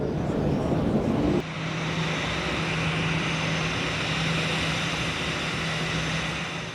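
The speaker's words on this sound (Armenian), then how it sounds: "Ռոմի Պապի օդանավը երևաց հորիզոնում։" A propeller airliner carrying the Pope approaches an airport in Armenia, its engine a steady broadband drone with a low hum, loud and continuous, a different noise briefly heard at the start.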